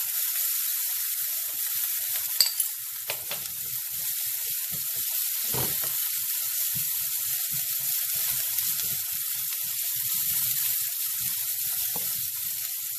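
Spices frying in oil in a pan give off a steady, bright sizzle that holds throughout, with occasional faint clinks and stirring sounds underneath.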